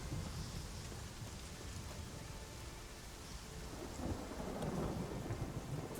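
A thunderstorm in The Witcher 3 with steady rain hiss and low rolling thunder throughout, swelling louder near the end, with no voices.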